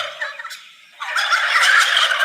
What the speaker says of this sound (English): Oh, you got to watch out for those turkeys.